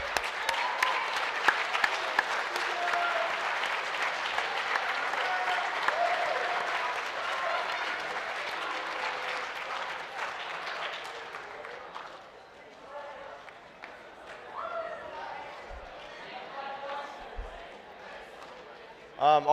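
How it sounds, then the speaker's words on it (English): Crowd at a high school farewell assembly applauding the seniors: loud, dense clapping that fades after about ten seconds into scattered claps, cheers and murmuring voices. "Let's give them a round of applause for all the work that they've done."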